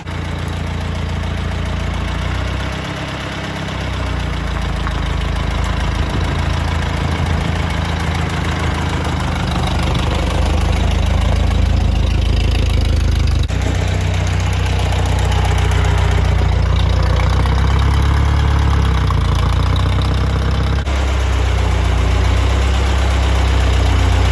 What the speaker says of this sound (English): The tractor started and ran